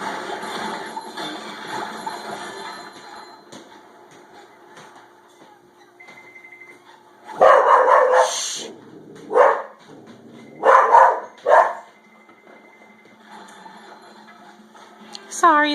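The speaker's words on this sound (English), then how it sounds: "Sorry, that's just my dog barking at a squirrel" A dog barks at a squirrel in several loud, sharp bursts spaced a second or two apart, heard over quiet video game music.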